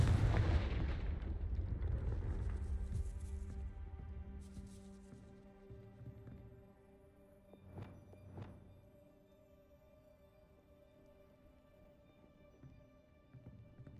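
A Confringo blasting spell explodes in Hogwarts Legacy, a deep loud boom at the start fading into a long rumbling tail, followed by a quieter pair of soft thumps amid ambient game music.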